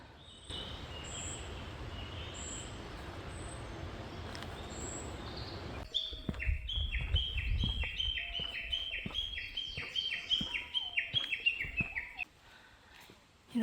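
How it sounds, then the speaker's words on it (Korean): Birds chirp and tweet repeatedly in short bright calls over a steady outdoor hiss on a walking trail in Hokkaido, Japan, growing busier midway before fading. "새소리가 엄청 좋아요."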